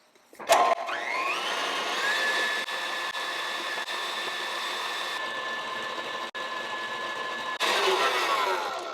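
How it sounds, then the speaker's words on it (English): An electric mixer whips egg yolks and sugar at medium-high speed for a Portuguese Alfeizerão-style sponge cake, a loud continuous whirring drone that starts abruptly and holds steady with slight shifts in pitch, alone without speech. "You're going to blend these at medium-high speed for about 5 minutes."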